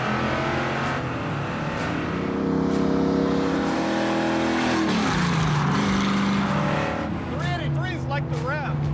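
A car engine revs loudly up close, its pitch climbing and falling through several pulls with a rising whine near the end, as people talk over it.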